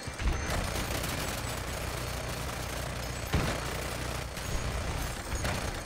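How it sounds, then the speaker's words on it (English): Gunfire in the video game Battlefield 2042 tears into vehicles: dense, loud bursts of shots over a constant roar of battle noise, with sharper blasts near the middle and toward the end. "Just destroy the vehicles with this gun."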